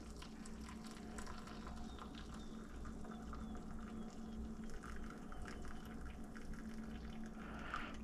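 Coffee is poured from a pot into a cup, giving a steady, soft liquid trickle and gurgle that runs continuously for several seconds over faint background hiss.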